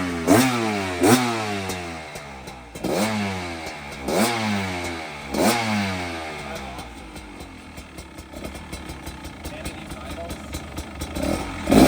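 A rebuilt motorcycle engine idling outdoors on a cold, snowy day, with a loud, even chugging pulse near the microphone that rises and dips in a few surges, while people talk over it.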